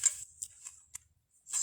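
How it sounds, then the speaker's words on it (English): A small paper guillotine trimmer slicing excess card off a handmade greeting card: a few short, crisp swishes of the blade, close and fairly quiet, with near silence between them. "my little guillotine here. And we're just going to cut off that excess."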